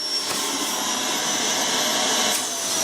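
A vacuum cleaner runs inside a new enclosure, producing a steady, loud, continuous whooshing roar with a faint high whine, unbroken throughout and with no voices.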